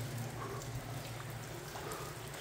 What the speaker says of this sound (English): But all you can hear is the rain.